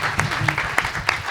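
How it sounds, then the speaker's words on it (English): Audience applause for a stand-up comic at a live arts show, steady close clapping with a few sharper bursts over a murmuring room, brief and continuous. "They're still applauding for her back there."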